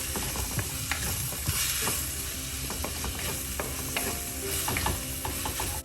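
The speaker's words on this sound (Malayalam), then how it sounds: "എണ്ണയിൽ എല്ലാം കൂടെ നല്ല മിക്സ് ചെയ്യാം" Onions, garlic and turmeric are stirred in hot oil in a pan, giving close, continuous sizzling broken by repeated scraping and clattering strokes of a spoon against the metal.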